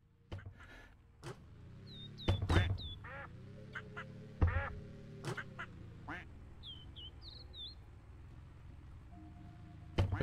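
Several bright duck quacks from the video game Park Up Car come in short clustered bursts, loud and close, with occasional thumps over a low droning game backdrop.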